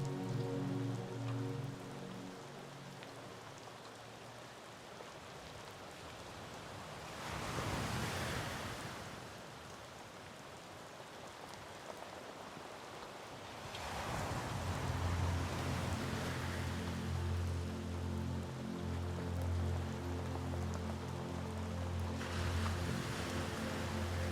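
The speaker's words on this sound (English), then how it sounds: "listening to the sounds of water lapping against a shore." Water laps against a shore on the southwest coast of Turkey, a steady wash of small waves and spray that swells and fades in broad surges over a low rumble, with no voices.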